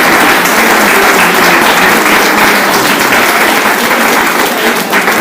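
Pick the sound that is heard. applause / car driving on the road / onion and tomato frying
applause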